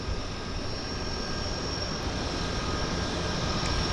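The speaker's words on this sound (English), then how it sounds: "we got a twin Otter as well in the mix" A Twin Otter propeller floatplane at Vancouver's downtown harbour airport gives off a steady, loud, broadband engine roar with a faint high whine, continuous and unchanging, with no voices.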